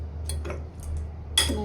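Utensils clink and scrape against a bowl while a mint-leaf salad is stirred and mixed in a home kitchen, a few soft taps and one sharper clatter near the end over a steady low hum.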